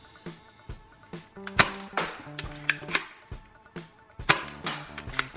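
A Dart Zone Blitzfire foam dart blaster being primed, giving a quick series of sharp, close plastic clacks and snaps in an uneven rhythm over faint tonal background sound.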